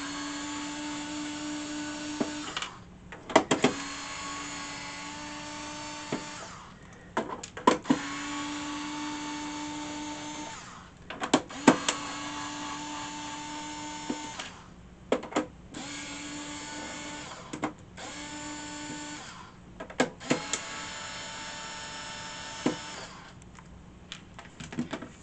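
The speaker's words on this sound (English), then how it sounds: "Remove the seven or eight screws, one, two, three, four, eight screws on the bottom." Power screwdriver or drill whirring in repeated bursts as it backs out the bottom screws of a ColecoVision game console under repair, each run of several seconds separated by short pauses and small clicks, fairly close with no talking.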